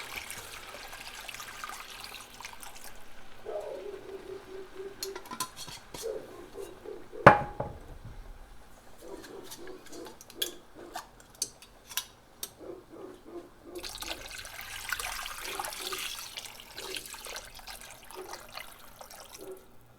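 Stock from three glass jars poured over an antelope shoulder blade roast, a soft liquid trickle and drip running through most of the stretch with a sharp clink near the middle and scattered small taps, fairly quiet and close.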